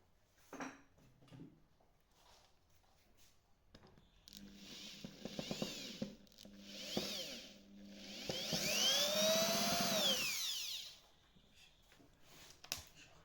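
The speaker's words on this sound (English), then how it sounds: "tightening it from the back with the drill" A power drill whines in a sustained burst, rising in pitch, tightening a screw into a blind nut on a large prize wheel, after several short clicks and taps of hardware being handled nearby.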